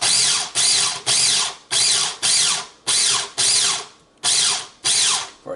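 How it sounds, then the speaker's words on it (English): Food processor chopping dry ingredients, with about ten loud, sharp pulses of whirring blades, each starting abruptly and fading out, separated by short silences. "Put that in the food processor. I like to give all my dry ingredients a little chop."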